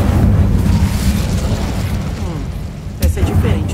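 Spell blasts in the Hogwarts Legacy video game: a sustained rumbling, booming roar fills the scene, then a sharp burst near the end erupts into another loud blast, with a character's voice over the noise.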